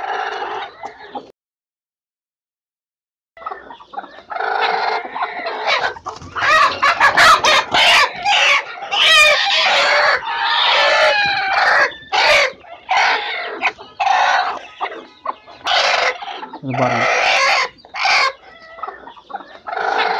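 Hens cluck busily in short, repeated bursts after a brief silence, close by and fairly loud, with a sharper crowing-like call mixed in.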